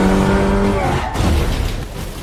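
Guard cars in an action film chase: a loud, close engine roar with a tonal whine that breaks off into a rush of tire and road noise, intense throughout with no voices.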